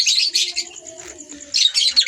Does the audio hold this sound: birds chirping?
yes